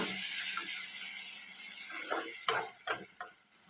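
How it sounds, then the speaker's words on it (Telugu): Tomato puree fries in a pan for egg curry, giving a quiet steady sizzle with a few scraping stirs of a spoon toward the end. "ఇది కూడా పచ్చివాసన పోయేదాకా ఫ్రై చేసుకోవాలి"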